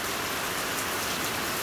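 Steady rain drums on a vehicle's roof and body, a dense, even hiss of drops with no pauses, close and loud.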